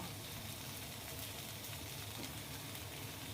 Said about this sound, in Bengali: আমি এর মধ্যে ছেড়ে দিলাম পেঁপেগুলো তেলের ওপরে দিয়ে দিলাম তেল ফোড়নের ওপরে দিয়ে